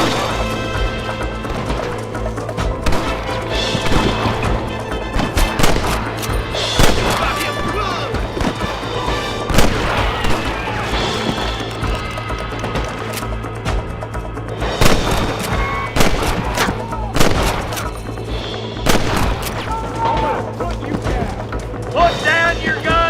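Gunfire in Red Dead Redemption, with repeated sharp shots and impacts scattered across a dense, busy mix of music and voices talking throughout.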